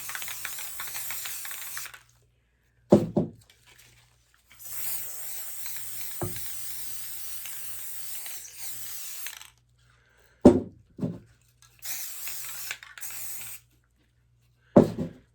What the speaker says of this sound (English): and I'm going to spray it on.